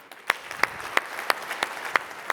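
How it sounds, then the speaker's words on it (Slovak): An audience welcoming a guest onto the stage at a hiking talk evening, with sharp claps at an even rhythm, each spaced about a third of a second apart, over a low crowd murmur. "privítajte veľkým potleskom Matúša Lášana"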